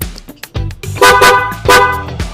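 Stock horn of a Yamaha NMAX Storm XR scooter gives a few short toots, then two loud, close, sustained honks, with no talk over it.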